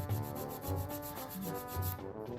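An acrylic nail's sides are filed down, a rhythmic rasping rub repeating in even strokes, close and quiet with no talking.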